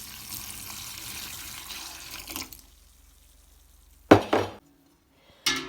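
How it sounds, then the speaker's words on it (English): Liquid dandelion wine pours and splashes through a clean pillowcase, a steady trickle for a couple of seconds, then silence broken by sharp clinks and splashes. "I'm going to strain it through this pillow case that is clean, and I'm just going to hang it on there and let it drip"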